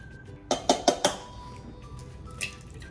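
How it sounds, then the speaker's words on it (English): Eggs cracked against a bowl rim for chocolate cake batter: four quick, sharp clinks in a row, fairly close, followed by a quieter single tap a moment later, with no talking. "We're going to crack 2 eggs."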